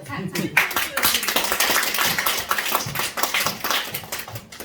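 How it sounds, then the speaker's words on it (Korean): A seminar audience at a hairdressing education event keeps clapping for a newly introduced co-CEO speaker, with brisk, fairly loud overlapping claps that continue steadily throughout. "박수 왜 이렇게 힘이 없어?"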